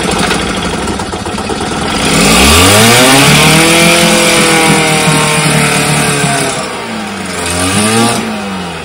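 A small 5.5 horsepower engine catches and runs, climbing in pitch as it revs up, holding a loud buzzing drone, then dipping and revving again near the end.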